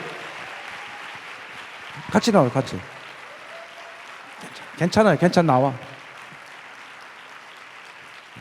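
An audience claps during a church program as a singer is called up, with two short bursts of applause between stretches of someone talking.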